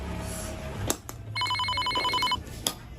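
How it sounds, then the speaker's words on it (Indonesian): Electronic telephone ringtone trilling in a steady pulsed burst for about a second, loud and close in a quiet room, with brief knocks and thumps around it. "Duh, aya telepon geningan."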